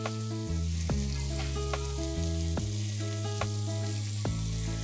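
Chicken starter pieces fry in a pan with a steady close sizzle. Bright clinking tones ring over it at a regular pace, as if from utensils or background music. No one speaks.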